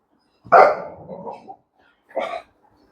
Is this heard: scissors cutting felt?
no